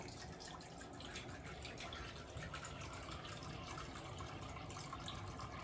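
Water poured to fill a box turtle hatchling enclosure dish to the top, a steady broadband splashing gush running continuously at a close, even level with no talk.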